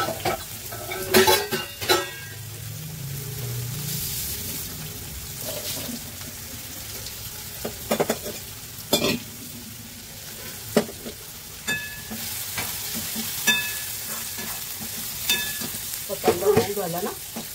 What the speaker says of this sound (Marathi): तर कांदा छान असा शिजून घेऊ।